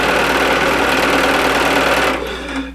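A sewing machine runs steadily and loudly, stitching fabric pieces together end to end for quilt piecing, with a continuous mechanical whir that eases off near the end.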